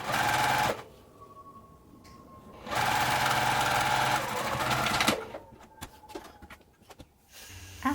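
A sewing machine stitches a waist dart in bursts: a fast whirring run, a pause, a longer run, then short stop-start stitches, close and fairly loud.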